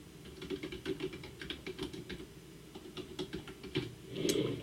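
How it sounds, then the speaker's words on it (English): Fast, light keystrokes on a computer keyboard patter in an irregular run, close and fairly quiet, ending in a slightly louder burst of clicks. "So I'm going to just type that in."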